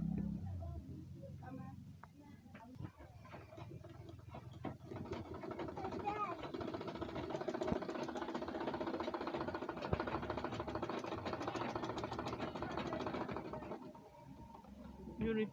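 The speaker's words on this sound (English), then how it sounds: "Fold it in and sew it down." A sewing machine runs steadily while stitching down the folded half-inch edge of a fabric bag handle, a continuous mechanical whir that fills most of the stretch beneath a voice talking throughout.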